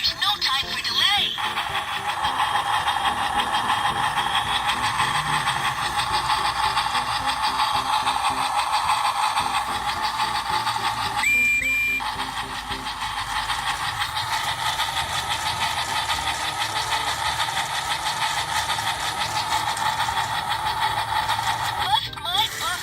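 A battery-powered Trackmaster Revolution Percy toy train runs with a steady, close electric motor whir, while the toy's recorded character voice plays phrases over it.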